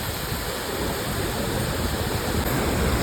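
Floodwater rushes forcefully beside the Mumbai–Goa highway after heavy rain, a loud, dense, unbroken roar of flowing water close by, with no talking.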